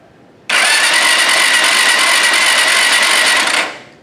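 A motorcycle starter cranks the engine with a loud, steady buzzing roar for about three seconds, then cuts off.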